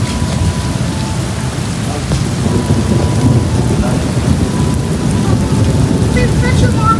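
Thunder rolls through a jungle hailstorm over a constant loud hiss of hail and rain, with no clear voices.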